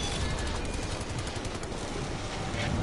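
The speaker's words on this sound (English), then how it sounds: "Fucking shooting." Continuous rapid machine-gun fire rattles in the video game Wolfenstein: The New Order, a loud dense fusillade of overlapping shots sustained throughout with no pauses.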